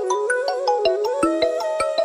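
A phone's incoming-call ringtone plays loud and close, a bright repeating melodic tone with regular sharp pulses about five times a second, continuous for the whole moment.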